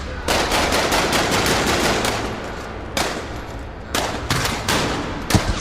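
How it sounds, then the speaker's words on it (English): Gunfire exchange in a dramatized street shootout: dense bursts of rapid automatic fire, then separate sharp volleys and single shots, loud and close with no speech. "Aiden watched from the shadows as Samuel and the other men exchanged fire."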